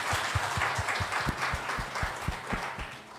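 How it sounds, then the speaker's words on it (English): Applause at a corporate HR panel event on reward and recognition, given to the panelists; a small audience claps in a brisk, fairly close round with distinct individual claps, lasting a few seconds. "Let's give a round of applause to our panelists"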